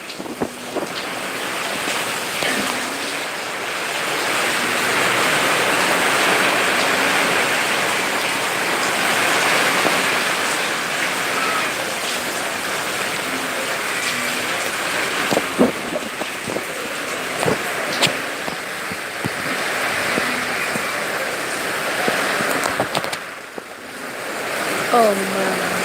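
Typhoon storm with heavy rain and gusting wind roaring steadily, a broad continuous wash of noise with occasional knocks and clatter, and voices faintly under it.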